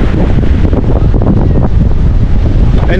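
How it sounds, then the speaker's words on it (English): Strong wind buffets the microphone on a Cape Town street at night, a loud, steady roaring rumble that never lets up. "Very windy"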